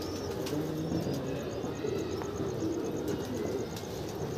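A flock of trained show pigeons in a loft or rooftop setting gives soft continuous cooing and faint chirps, with possible light wing flutter, steady and moderately close without speech.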